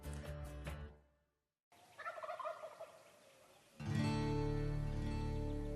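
Wild turkeys gobble outdoors across a mesquite flat around daybreak during turkey season, with loud, rattling gobbles at the start, a silent gap, then a fainter bird call and another strong gobbling burst near the end.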